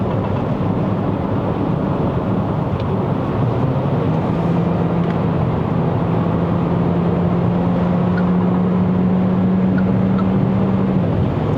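Steady broadband wind roar fills the cabin of a 2025 Proton X50 1.5TD Flagship cruising on a Malaysian highway at 160 km/h, with a low tyre and road drone and a faint rising engine tone underneath, continuous and loud throughout.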